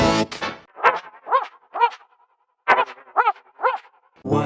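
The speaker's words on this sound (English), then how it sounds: "What sound does a dog make?" A dog barks in repeated bursts, two quick pairs then a run of three, close and loud with short pauses between, alone without any talking.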